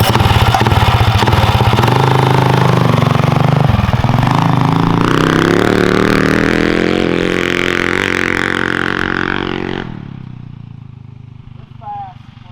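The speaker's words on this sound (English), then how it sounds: "It's a poor man's dirt bike." A high-horsepower mini bike engine runs loud and close, revving up with a rising buzzing whine, holding, then dropping away as the motor winds down.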